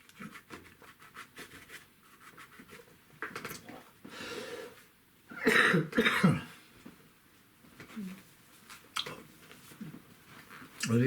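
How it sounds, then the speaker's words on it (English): A person coughs during an acrylic painting demonstration, a short burst of rough throat-clearing coughs around the middle, close and fairly loud amid quiet rustling and brief voice sounds. "I need a good cough."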